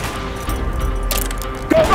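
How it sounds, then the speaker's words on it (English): Gunfire in Call of Duty Black Ops on Xbox Series X, a short loud burst of shots and impacts amid battle noise, with a voice heard briefly. "Gunfire's drawing attention."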